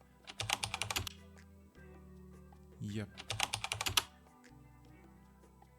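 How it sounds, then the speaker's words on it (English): Two quick bursts of keyboard typing, rapid clicking keys close up, separated by a pause; a brief spoken word in between. "for what we're doing, we are using typing"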